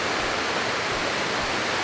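Kamogawa River in Kyoto flowing, a steady broadband rush of water that stays constant and fairly loud throughout the short stretch, with no voices over it.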